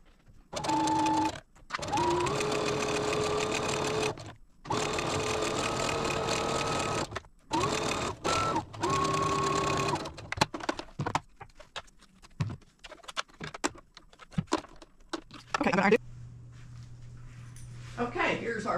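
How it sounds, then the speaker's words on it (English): A sewing machine stitching a quilt top seam, several loud close bursts of rapid whirring with short pauses between, then quieter handling clicks and rustles as work continues. "let's sew this seam"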